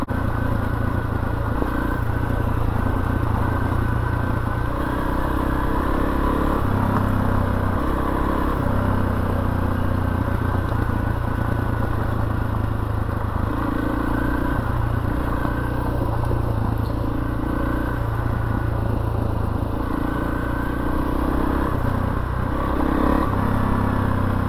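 Honda CRF300L dirt bike ridden alone on a north central Pennsylvania trail, a continuous loud single-cylinder engine drone with shifting throttle and clattering over rough ground, heard from on board.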